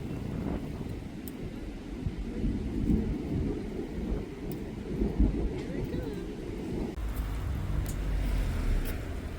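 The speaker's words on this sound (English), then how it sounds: "The heavens have opened, it's thundering and lightning" Thunder rolls during a hailstorm over a garden in Norfolk, a loud, continuous low rumble lasting several seconds, mixed with the hiss of falling hail and rain and gusts of wind.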